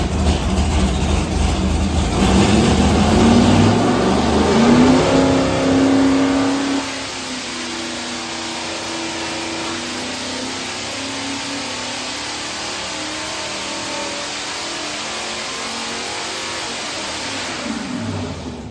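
An all-aluminum 427 Chevy V8 running on a dyno climbs in a loud, rising rev to about 6,500 RPM, then drops back to a steady, rumbling idle that carries on to the end.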